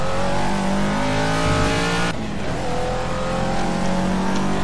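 Caterham Super Seven engine in Project CARS at Snetterton, loud and continuous with a rising rev that cuts abruptly as the throttle lifts, then settles into a lower, steady drone.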